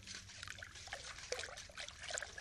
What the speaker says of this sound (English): Just vigorously wash off the roots.